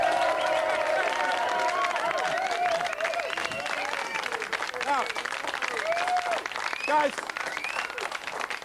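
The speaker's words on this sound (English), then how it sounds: "Give him a nice round of applause." A studio audience applauds steadily on a 1994 British talk show, a continuous wash of clapping throughout, with someone talking over it and occasional whoops rising from the crowd.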